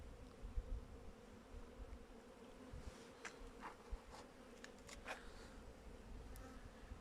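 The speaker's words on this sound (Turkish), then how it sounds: "Bayağı da şu çamların arasında dahi arılar geziyor." Honey bees buzz steadily around hives among pine trees, a soft continuous drone with occasional closer passes, and a few light clicks.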